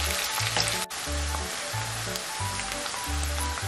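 Curry leaves go into hot oil in a pan while making Tamil fish kuzhambu, giving a steady, close, hissing sizzle that lasts the whole stretch under a low background hum.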